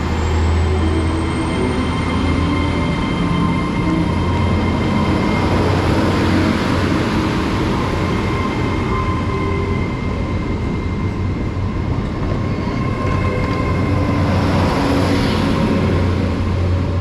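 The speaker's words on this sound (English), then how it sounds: "We'll let the train go out first." Train pulls out of Camborne station on the Cornish main line, a long continuous rumble of engine and rolling wheels with a faint high squeal, steady and fairly loud throughout, heard from the platform with no voices.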